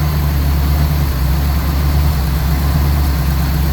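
A car engine idles steadily on its first run after being resealed with a new water pump and timing chain, the transmission fitted with a temporary tail shaft and the motor mounts not yet bolted in; a loud, continuous low rumble with no talk.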